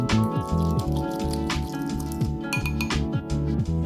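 Soy sauce, sugar, minced garlic, sesame oil, sesame seeds and black pepper stirred together in a bowl for a beef marinade, with close repeated clinks and wet swishing strokes in a quick, even rhythm over a faint musical background.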